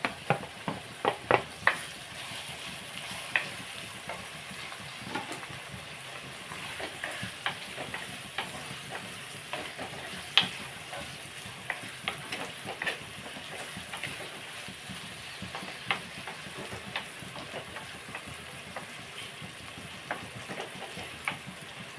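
Tomato pieces fry in a pan of brinjal and dried salted fish curry, giving a steady close sizzle broken by frequent sharp stirring scrapes and clicks, with no talking.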